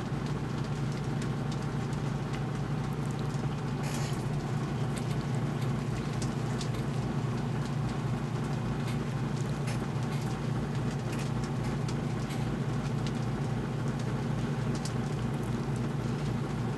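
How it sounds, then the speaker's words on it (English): Steady rain falls at night, a continuous broadband hiss with a low rumbling undertone that stays even throughout, with a few faint bird calls over it and no talking. "So it's been rained every night now since I've been back."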